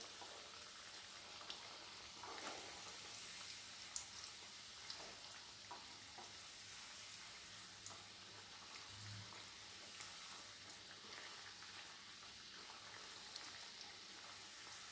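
Wheat flour namak pare fry in hot oil while being turned, a faint, steady crackling sizzle with soft scattered pops and stirring scrapes throughout, no voices.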